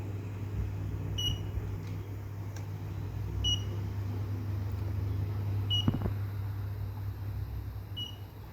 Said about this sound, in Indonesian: langsung terdeteksi dan buzzer berbunyi